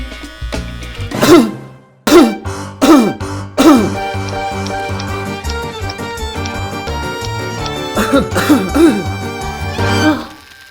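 A man coughs and clears his throat in a series of about six harsh bursts, some grouped close together, with brief pauses between them.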